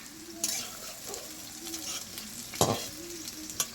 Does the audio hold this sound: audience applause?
no